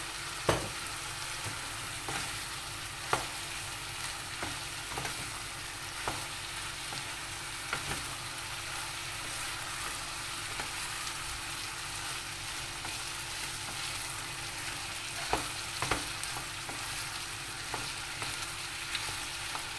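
Chicken filling for a börek frying in a pan in its own fat, a steady close sizzle with occasional spoon taps and scrapes throughout.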